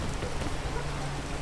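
Rain in the climbing video game PEAK, a dense, even hiss of falling rain and drops on surfaces with a low steady hum underneath, continuous and moderately loud with no voices.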